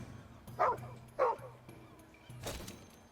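Two sharp dog barks from a creature in the video game Crown Gambit, followed by a whimper and a brief burst of noise, heard over low game background sound.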